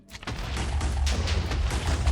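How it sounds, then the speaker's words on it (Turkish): A TNT block detonating in Minecraft during a lucky block contest, a sustained low rumbling boom with crackling debris that rolls on for about two seconds, loud and close with no talk over it. "Oo slime ölmedi TNT patlamasında."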